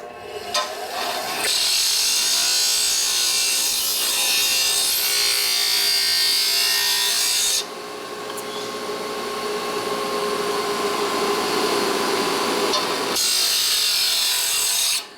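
An electric grinder works on a motorcycle front fork spring part during a 2008 Buell Blast trials conversion, a loud continuous rasping whine that breaks off briefly midway and then resumes.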